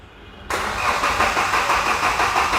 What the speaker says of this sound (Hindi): गाड़ी को स्टार्ट कर दो।